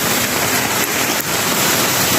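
Heavy rain pours down in a dense, constant roar, mixed with the rush of fast-flowing floodwater nearby.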